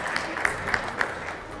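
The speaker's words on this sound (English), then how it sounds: "Yes, you can applaud." Church congregation applauding during a Baptist worship service, a steady wash of many hands clapping at moderate distance with a few sharper claps standing out, no voices over it.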